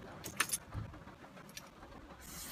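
Keys jangling in a car ignition, a brief close rattle in the first half-second, followed by a quiet, faint hum as the car starts.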